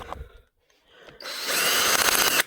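A power screwdriver backs screws out of a laptop during a thermal paste change: a brief tap and pause, then a close, steady whirring drive for about a second before stopping.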